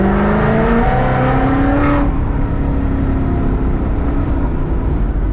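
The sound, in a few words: 1000hp Mustang GT500 engine accelerating at throttle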